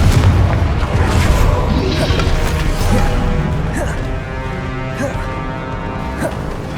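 Booming fire-spell explosions in the Hogwarts Legacy video game during a boss battle, a dense, continuous roar of blasts and crashes with faint game voices mixed in throughout.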